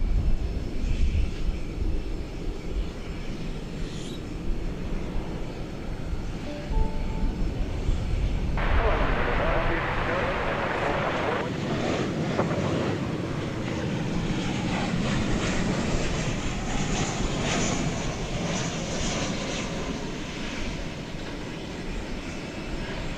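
An airliner arriving at DFW Airport at night, a steady jet rumble that swells into a brighter, closer roar midway and then holds under a broad hiss, with no voices over it.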